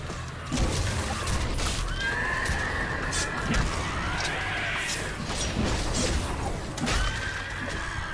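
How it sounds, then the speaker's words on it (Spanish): A flaming horse in Sacred 2 neighs in several drawn-out whinnies over a noisy backdrop of game sounds, with a voice talking faintly at times. "Caballo llameante."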